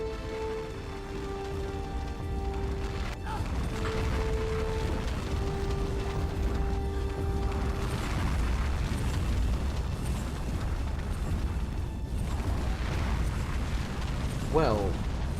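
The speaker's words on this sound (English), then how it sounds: "I am guessing there is a lot of fire going on and I need to avoid the fire" Fire burns in Tomb Raider: The Angel of Darkness as a continuous crackling, rushing roar that builds steadily, with low tones at the start and a brief rising whoosh near the end.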